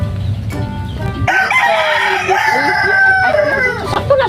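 A rooster lets out a long, loud crow close by, following a few soft clucks and faint background noise.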